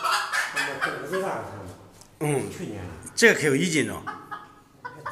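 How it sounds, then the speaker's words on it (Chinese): A small chicken being handled clucks and chuckles intermittently, mixed under close conversation between people. "哦，一个小鸡啊"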